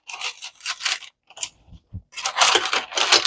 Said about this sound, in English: I'm going to grab a pair of scissors here, and I'm going to cut my corners.